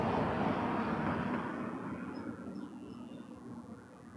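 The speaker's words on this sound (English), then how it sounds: "Behind the 737, Embraer 175, Jazz 397 from Quebec City" Jazz Embraer 175 regional jet at Toronto Pearson, a broad roaring jet rumble that starts loud and slowly fades as the aircraft passes, heard alone.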